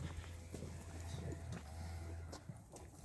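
Mares walk close by in a Ukrainian village, hooves tapping out a faint, irregular clip-clop over a low steady hum.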